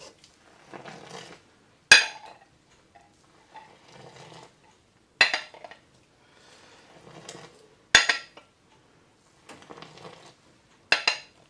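Small glasses and a pot knocking together while Ataya tea is poured back and forth: four sharp metallic-glass clinks a few seconds apart, with softer pouring and handling sounds between them, close and otherwise quiet.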